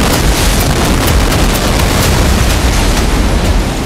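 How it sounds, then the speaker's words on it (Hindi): The Beirut port explosion, recorded in news footage, comes through as a loud, sustained roar. A continuous blast rumble fills the whole stretch with no speech. "धमाका इतना जबरदस्त था कि कई मील दूर तक तबाही फैल गई।"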